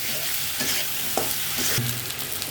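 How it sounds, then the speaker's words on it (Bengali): Beef liver being stir-fried with spices in a pan, a close, loud sizzle broken by scrapes and clatters as it is stirred, with no one speaking. "কলিজাটা সব মশলা দেওয়ার পরে মিক্স করে ভালো করে কষিয়ে নিতে হবে"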